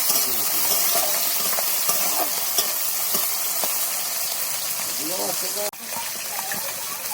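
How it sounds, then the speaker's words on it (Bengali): Steady sizzling of fish and onions frying in a pan with black cumin seeds, a constant hiss under a person speaking, with occasional stirring clinks and scrapes. "আমি মাছটা ভেজে পেঁয়াজটা ভেজে নিচ্ছি।"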